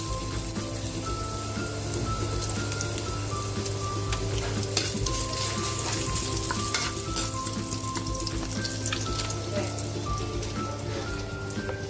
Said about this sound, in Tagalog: Sinalang natin yung taba para magmantika. Lagyan na natin yung ating luya.